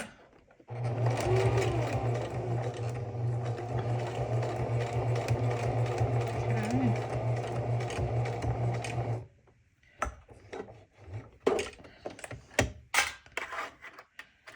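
A sewing machine stitches fabric Valentine's Day coasters in a long, steady, close mechanical whir, then stops and gives way to scattered handling clicks and rustles.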